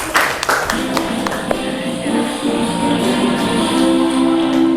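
Students in a classroom clap together in a brief burst, a dense patter of hands close by with a few sharper individual claps, while the room murmurs and a voice carries faintly underneath.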